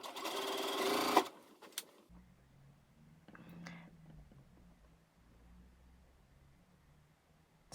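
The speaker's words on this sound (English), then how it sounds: "finish that edge off again with either a zigzag stitch on your machine or an overlocker" A sewing machine runs a zigzag stitch along a fabric edge in one short, loud buzzing burst of about a second, then stops, leaving quiet handling noises and a low hum.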